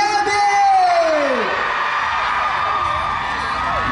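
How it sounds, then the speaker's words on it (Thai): A crowd of fans at a Siam Center promotional event for JAY B scream and cheer loudly and continuously, with whoops and shrill yells over a dense crowd roar and a voice calling out near the start. "ส่งเสียงกรี๊ดให้กับ JB"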